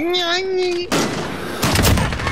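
Gunfire from the Call of Duty Modern Warfare video game, a loud burst of rapid shots that cuts off a tonal sound, then a second volley a moment later, close and harsh.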